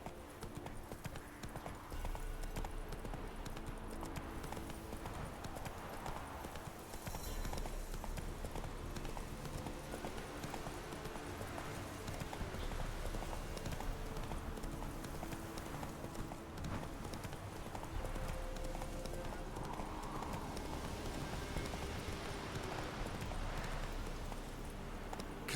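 Roach, a horse in The Witcher 3, gallops steadily with rapid rhythmic hoofbeats over a continuous ambient game backdrop, fairly quiet overall.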